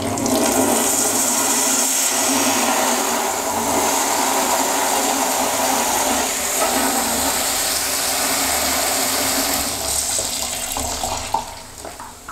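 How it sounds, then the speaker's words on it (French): Water spraying steadily through a paint roller cleaner, a loud, continuous hiss and gush that holds evenly for about eleven seconds before tapering off, with no voices. "et on va allumer l'eau. Et on va voir ce qui se passe. Donc, l'eau rentre."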